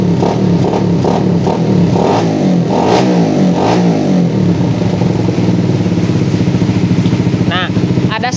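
A motorcycle engine with a PWK carburetor being checked after tuning, revving in repeated loud bursts and then settling into a steady, close, rattling idle.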